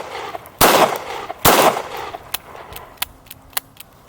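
Two loud, close gunshots from a revolver fired through a jacket pocket at an outdoor range crack about a second apart, followed by lighter metallic clicks and clatter.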